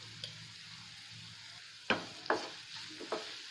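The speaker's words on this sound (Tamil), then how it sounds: "கொஞ்சம் ஃப்ரை பண்ணிக்கோங்க." Onions frying with a little salt in a pan, with a steady low sizzle and a few sharp scrapes and clinks of a spoon stirring near the end, close and alone.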